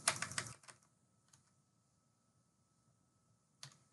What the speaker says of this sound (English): we want to type in the name of our data set